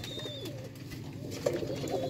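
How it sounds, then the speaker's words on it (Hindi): Sialkoti pigeons coo in a loft, soft repeated throaty calls over a low steady hum, with one slightly louder coo near the end. "बहुत आला दोस्तों सियालकोटी कबूतर"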